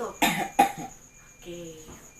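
A patient doing chest physiotherapy and effective-cough training gives two sharp, close coughs in quick succession, followed by a brief faint voice.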